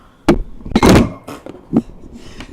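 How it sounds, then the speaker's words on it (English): A desk microphone gets knocked over in a room, giving several loud, close thunks and a heavy clattering bump in quick succession, then a softer knock. "And I knocked over the mic."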